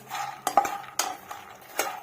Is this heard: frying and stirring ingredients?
yes